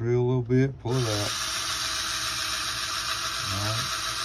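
An old cordless drill with a weak battery whines steadily as it bores into solid wood on a model B-17 wing, running continuously and close after someone speaks briefly at the start and again near the end.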